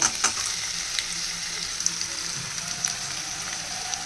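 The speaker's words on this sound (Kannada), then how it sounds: "ಈರುಳ್ಳಿ ಚೆನ್ನಾಗಿ ಸ್ವಲ್ಪ ಫ್ರೈ ಆಗಬೇಕು" Chopped onions frying in a pan give a steady, bright sizzle close by, with a few small pops and crackles scattered through and no voices.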